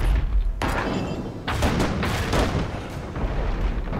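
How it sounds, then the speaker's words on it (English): A mortar fires in the naval combat game Abandon Ship, two heavy, booming thumps close together rolling under dense battle noise, with no talk over them. "Mortar!"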